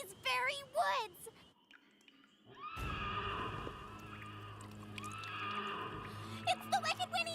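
A cartoon headless horse lets out a loud, wavering neigh, followed by a spoken line, then a long drawn-out whinny and a final short burst of neighing.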